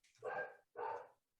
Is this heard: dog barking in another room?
yes